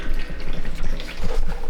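Engine oil drains and drips from a Corvette C6 during an oil change in a garage, a loud, continuous splattering liquid flow without pause.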